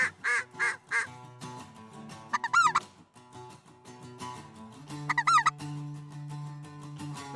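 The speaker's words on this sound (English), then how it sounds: "There's specks, so we got 2 speckle bellies and a Canada." Geese call during a hunt, including two white-fronted geese (speckle bellies) and a Canada goose: rapid bursts of honking and cackling, with a few wavering high calls, fairly near and loud over steady background.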